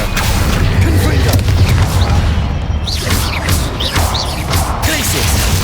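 A Confringo blasting spell explodes in Hogwarts Legacy, with heavy booms and crashing impacts layered over a dense, loud battle din.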